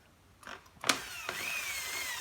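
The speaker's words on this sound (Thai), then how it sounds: "เรามาเจาะกันเลยนะครับ นี่ครับ เจาะกันง่ายๆเลยครับอันนี้" A drill bit boring a hole through the centre of a plastic bottle cap fitted on a bottle, heard as short gritty bursts of whirring and scraping, fairly close, with a brief high whine partway through.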